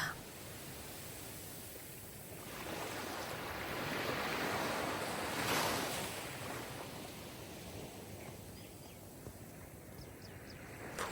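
Steady roar of sea waves breaking on a shore, a continuous wash of surf that swells louder through the middle and eases again, with no voices.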